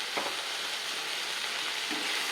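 Vegetables sauté in plenty of oil for chilli chapati, giving a steady soft sizzle with a couple of faint stirring scrapes in the pan.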